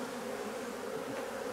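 Honey bees swarm around an opened beehive with a bee-escape board and plexiglass cover, a dense, continuous drone of many buzzing wings, close and steady throughout, with no talking.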